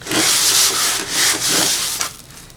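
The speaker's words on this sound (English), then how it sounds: "Rub it around on that old plate." Seasoned chuck roast rubbed and dragged around on an old plate, giving a loud, continuous scraping and rubbing with a few swelling pulses, close up and without talk.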